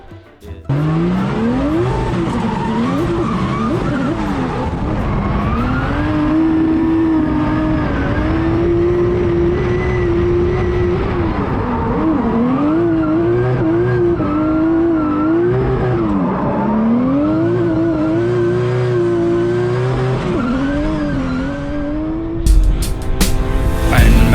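A Toyota Supra 2020 build of about 1000 horsepower drifts at big angle, its engine loud and continuous with wavering revs and tire squeal throughout, climbing harder before a sharp change at the end.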